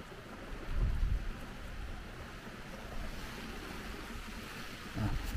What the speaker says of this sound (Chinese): 今天有点儿小雨